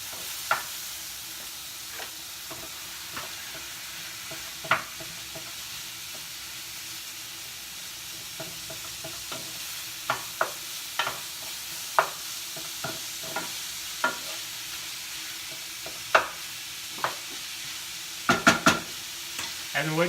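Meat frying in a pan for a pasta meat sauce gives off a steady, even sizzle and hiss, with scattered light clicks and pops from stirring and spattering throughout.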